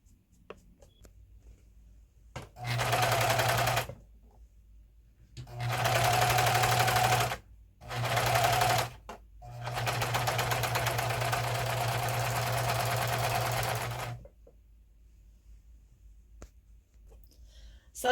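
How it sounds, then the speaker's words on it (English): A serger stitching a side seam in fraying fabric, running in several loud close bursts of rapid mechanical whirring with short pauses between, then a longer continuous run before stopping. "So I decided to put this together with my serger so that the ends are really nice"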